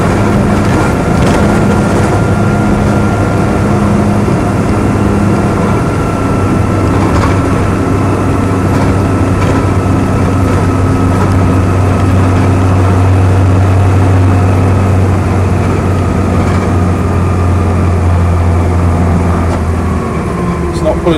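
A Land Rover Series III 88-inch hardtop on the move, its engine and drivetrain giving a loud, steady low drone with a constant hum throughout, cabin rumble filling the space.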